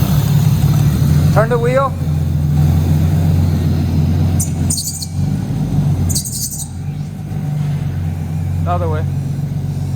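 An R34 Skyline engine fitted with a GT35R turbo kit idles steadily, close and constant. Bird chirps are heard, and people speak over the engine.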